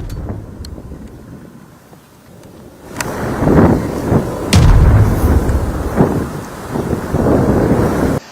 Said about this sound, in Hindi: इसीलिए धमाके के साथ यहां पर जो फायरिंग है वो हो रही है।